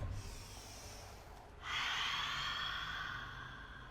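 A single deep breath during a yoga flow: a soft airy inhale or exhale, then a louder, longer breath from about halfway that fades gradually, close to the microphone in a quiet room.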